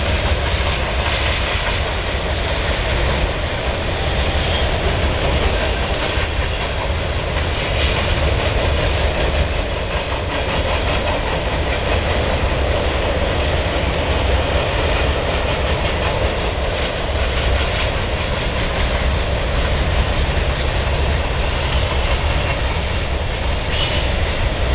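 Train rolling along old Southern Pacific tracks, a steady, loud broadband rumble and rail noise that holds evenly for the whole stretch with no voices, as if heard from trackside close by.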